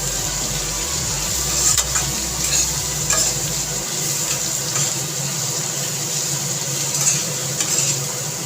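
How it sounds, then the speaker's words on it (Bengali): Ginger paste, cumin powder and spice paste being stir-fried with potatoes in a pan for khichdi: a steady, close sizzle with repeated scraping stirs throughout, and no talking. "1 চামচ জিরে গুঁড়ো, দিয়ে মশলাটাকে খুব ভালো করে আলুর সঙ্গে কষিয়ে নেব।"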